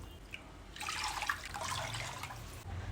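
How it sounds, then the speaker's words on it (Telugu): Three cups of water are poured from a bowl into a pot for cooking flour dough in a traditional kitchen, a faint, close splashing trickle lasting around two seconds with no talk over it. "3 కప్పుల నీళ్ళు పోస్తా."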